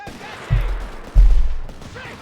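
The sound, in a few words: infantry gunfire in video game Company of Heroes 3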